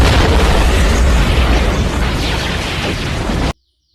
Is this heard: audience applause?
no